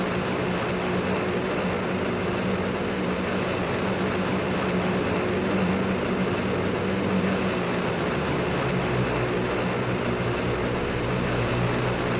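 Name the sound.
Airbus A400 turboprop engine in a flight simulator video game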